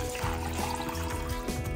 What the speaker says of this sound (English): Pimmu is the blood water when I'm pouring it out, just like that.